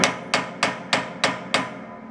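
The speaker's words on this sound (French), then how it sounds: "il faut y aller au marteau-burin, car à la clé à griffe, ça ne vient pas" A hammer strikes a cold chisel against corrosion-welded union fittings on a 3000-litre hot water tank, six loud metallic blows in an even steady rhythm, close and alone.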